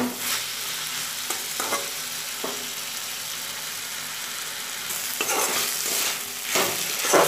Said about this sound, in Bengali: জল দিয়ে মশলাটাকে ভালো মতো কষিয়ে নেব